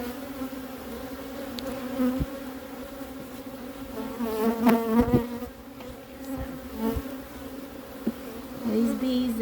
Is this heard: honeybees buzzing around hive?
yes